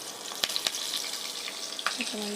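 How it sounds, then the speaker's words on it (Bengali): Cumin seeds, bay leaf and green chilli sizzle in hot oil while rohu fish is being cooked, a steady crackling hiss with a few sharp pops and clinks near the end. "এই যে তেলের মধ্যে জিরা দিয়ে দিলাম, তেজপাতা, কাঁচামরিচ"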